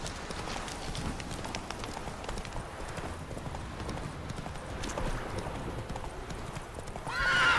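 A horse in The Witcher 3: Wild Hunt video game trots with steady rhythmic clip-clop hoofbeats throughout and whinnies near the end.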